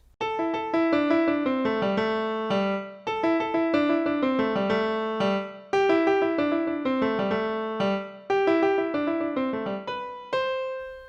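A piano plays a repeating, bouncy guitar riff in clear, evenly struck notes, the short phrase cycling several times without any voices.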